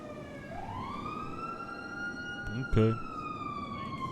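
Police sirens in a GTA roleplay video game, a rising wail that settles into a steady tone over a low engine rumble. A brief thump occurs partway through, and a person speaks briefly.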